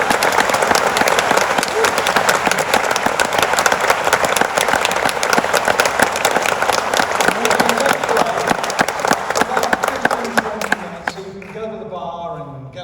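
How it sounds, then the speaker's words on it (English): Dense, sustained applause from a theatre audience after an appearance by Ginger Alden at Stockport Plaza, Stockport, loud and continuous for about ten seconds, then thinning out abruptly as a voice begins talking over the fading claps. "Could you give Ginger a round of applause?"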